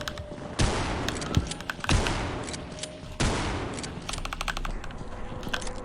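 Bursts of gunfire from a first-person PC shooter, Afraid of Monsters: Director's Cut, as the player shoots barnacles overhead; several loud sharp volleys with rapid repeated shots in between, close and dense, with no talking.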